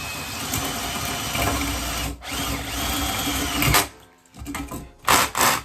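Loud whine of a power drill driving self-tapping screws to mount a solenoid in a lowrider, long close bursts that rise, stop and restart several times.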